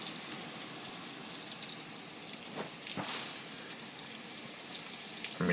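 Heavy, steady rain during Hurricane Irene in 2011, a dense even hiss with a brief gusty swell midway, with no voices.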